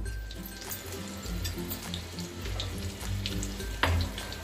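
Cumin seeds and chili hiss and crackle in hot oil in a pan while cooking a gravy-style okra dish, a continuous close sizzle with a low steady hum beneath it and a sharp clink near the end.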